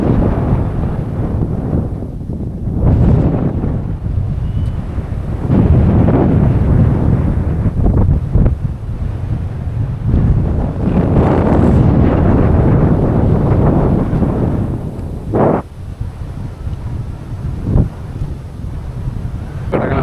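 Strong wind gusts roar across the microphone at a hilltop viewpoint in Vellanikkal Paramukal, Trivandrum, loud and buffeting throughout, with brief dips and sharp rumbles between gusts.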